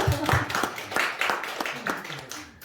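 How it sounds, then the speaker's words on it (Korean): A handful of sharp, evenly spaced claps ring out at a Korean Buddhist temple meditation lecture, a small group clapping briefly in a quiet room with speech nearby. "박수 한번 쳐주세요."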